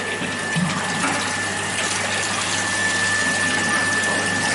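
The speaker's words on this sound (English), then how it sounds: "You could see this water is flowing from this pipe only." Water flowing out of a large-diameter pipe into a collecting tank in a fluid-flow lab setup, a steady, loud rushing gush that continues unbroken with no talk.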